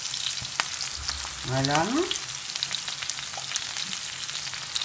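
Courgettes sizzle and fry in a pan with peppers and onion while cooking seafood rice, a steady close hiss with a brief louder burst of sizzling in the middle; a voice speaks once briefly.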